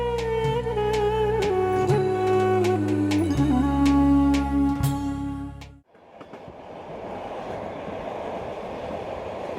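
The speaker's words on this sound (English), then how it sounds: "The train journey continues through the steppes of Central Asia" Melodic music with chiming notes ends, then the steady rumble and rattle of a train rolling along rails through the steppes of Central Asia continues, fairly loud and unbroken.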